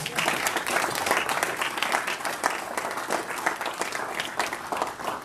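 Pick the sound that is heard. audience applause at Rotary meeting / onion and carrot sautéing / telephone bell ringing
audience applause at Rotary meeting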